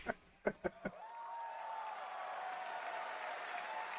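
A few sharp claps, then a sustained roar of cheering and applause from a live audience at the Summer Game Fest 2025 showcase, spreading wide and holding steady.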